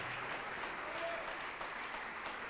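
Church congregation applauding steadily and fairly loudly, a dense continuous wash of clapping throughout with no talk over it.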